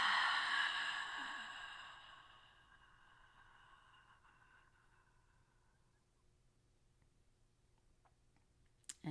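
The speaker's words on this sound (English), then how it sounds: "Let's engage that deep diaphragmatic breath. And with sound, with the exhale," A single long, audible exhale from a deep diaphragmatic breath, close and breathy, strongest at the start and then fading to near silence, with a small tap at the very end.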